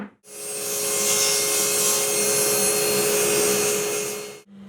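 A power saw cuts through wood for a model railroad module, a loud sustained whining buzz that starts abruptly and holds steady for about four seconds before cutting off, heard up close with no talking.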